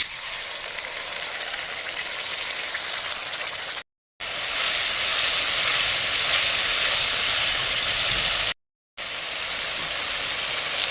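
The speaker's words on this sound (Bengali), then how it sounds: "এটা ভাজা ভাজা হয়ে গেছে, পেস্ট করে রাখা মশলাটা দিয়ে দেবো।" Chopped onions with whole spices fry in oil as a spice paste goes in, a soft steady hiss of sizzling that cuts out briefly twice.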